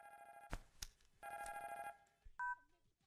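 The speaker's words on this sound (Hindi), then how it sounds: "फोन बज रहा है। तुम्हारा बज रहा है।" A telephone rings in two clear bursts of bright electronic tone, followed by a short beep, with a thud or two between them in an otherwise quiet room.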